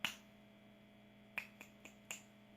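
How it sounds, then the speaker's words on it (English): Several finger snaps, one sharp snap at the start and then a spaced run of four quicker snaps, crisp and close over a faint steady electrical hum in an animated cartoon scene. "Now when I snap my fingers, you will awaken and tell me the formula."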